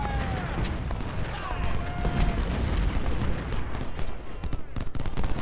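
Battle noise in the Civil War strategy game Ultimate General: Civil War, set at the Battle of Cross Keys: dense rolling musketry crackle and booming artillery fire continue without a break, with a brief faint voice partly masked.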